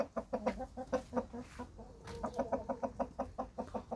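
Backyard chickens cluck in quick, irregular bursts ahead of a coming thunderstorm, several birds close by and fairly loud, with no talk over them.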